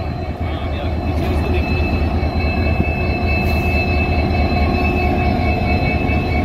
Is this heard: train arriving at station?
yes